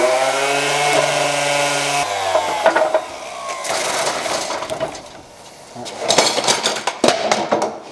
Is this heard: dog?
no